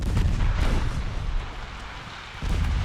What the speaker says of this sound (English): there go my torpedoes